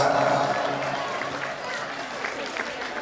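Audience clapping at an annual prize distribution and 75-year closing ceremony, a steady wash of applause that swells at first and then settles, with a host's voice speaking over it.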